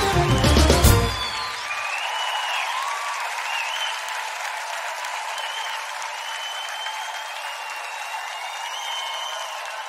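Audience applause for a dance company at a samba and pagode show, a short burst of music and cheering at the start giving way to steady, sustained clapping from a large crowd for the rest.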